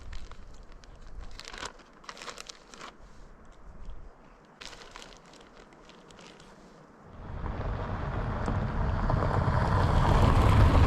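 Faint rustling gives way to a strong wind shooting through a small canyon, swelling into a loud, steady rushing roar over the last few seconds.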